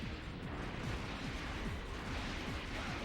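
Missile strikes in Battle Assault 3 featuring Gundam Seed, a rapid series of small thumping impacts repeating every fraction of a second over a dense, noisy roar.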